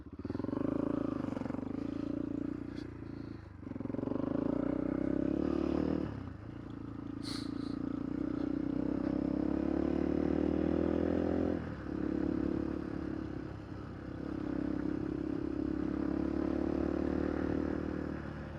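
A Kovi ADT 300 off-road motorcycle rides through open fields, its engine a steady, close drone that briefly dips a few times as the throttle eases, then rises again.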